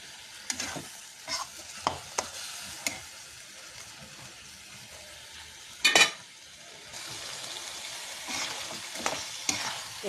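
A spoon scrapes and stirs through a chili spice paste frying in oil, with a steady low sizzle beneath repeated sharp scraping strokes and a louder clatter near the middle, the sizzle swelling toward the end; no talking.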